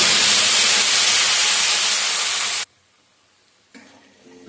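A tomato, cashew and green chilli paste hits hot whole spices in a pan for vegetarian aloo dum. A loud, harsh hissing sizzle lasts about two and a half seconds, cuts off abruptly to near silence, then a fainter crackle returns.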